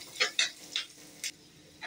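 Onions sautéing in oil for chutney, heard as a few short, quiet bursts of sizzling and stirring scrapes spaced across the moment, with no voices.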